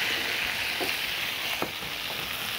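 Tomatoes fry with chilies in a hot clay cazuela, giving a loud, steady sizzle with a few brief pops and stirring scrapes, close up and without speech.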